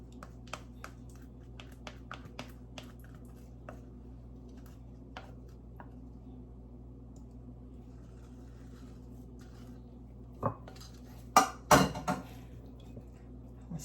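A spoon stirring a salty sauce mixture with a tablespoon of honey in a bowl: faint, sparse clinks against the bowl at first, then a short burst of louder clattering knocks near the end.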